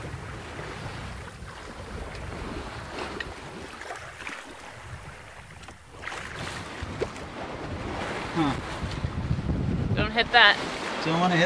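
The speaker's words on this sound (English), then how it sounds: "Finally, we have some wind today" Wind gusts roar across the microphone aboard a sailboat at sea, with a steady rushing blowing and water sloshing that grows louder toward the end.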